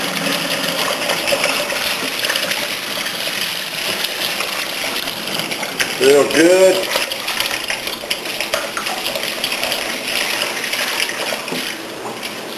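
Water rinsing through a beer brewing manifold during cleanup after an all-grain brew, a steady broad wash of running, splashing water with a brief louder gush midway and a few quiet words spoken.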